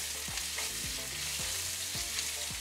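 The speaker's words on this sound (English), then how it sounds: "And fry for a little while." Chestnut, cloud and Chinese mushrooms fry in a hot pan with a steady broadband sizzle, punctuated by a few low knocks and scrapes of stirring, with no voices.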